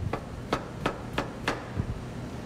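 Five or six sharp knife chops cut through swamp cabbage, the heart of a sabal palm, at an even pace, close and crisp with no voices.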